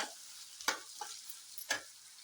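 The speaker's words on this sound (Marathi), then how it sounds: "बटाटा सुद्धा तेलामध्ये छान परतून घेतलाय." Chopped potato fries in oil with turmeric, a quiet sizzle broken by a few sharp spatula scrapes against the pan.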